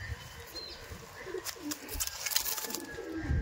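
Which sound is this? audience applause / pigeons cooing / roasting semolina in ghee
pigeons cooing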